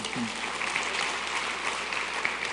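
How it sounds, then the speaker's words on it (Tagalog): Steady applause from a church congregation during a service, a dense continuous patter of many hands clapping at an even, moderate level throughout. "Pumalakpak nga kayo ng malakas."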